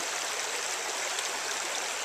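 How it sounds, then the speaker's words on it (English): A creek with frozen water shelves at Long Branch Farm flows steadily, a continuous hiss and rush of moving water, moderately close and undisturbed by voices. "I'm transversing a very kind of difficult creek"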